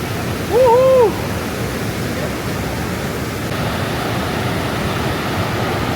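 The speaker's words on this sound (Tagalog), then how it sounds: "Ano ang Maria Cristina Falls?" Maria Cristina Falls in Iligan City, Lanao del Norte, Philippines, gives off a steady, broad rushing roar of falling water throughout. Early on, a brief high voice-like whoop rises above it.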